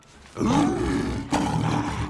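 Alex, the animated lion from Madagascar (2005), roars loudly up close in two long bursts separated by a brief break.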